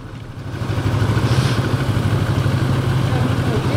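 A Benelli-style X-Cape 650 motorcycle engine idles close by with a steady low, pulsing throb, joined by a brief rising hiss partway through.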